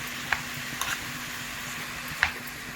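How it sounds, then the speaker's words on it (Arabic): Minced meat fries in a pan with onion and spices, a steady soft sizzle broken by a few sharp scrapes and clicks of stirring, close up with no talk. "وبعدين هحط بقى اللي هي اللحمة المفرومة، وطبعا ايه هقلبها، وطبعا كل شوية هقلبها"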